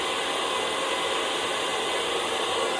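A handheld blow dryer roars steadily as hair is brushed and dried for volume, a continuous loud airy hiss with no breaks.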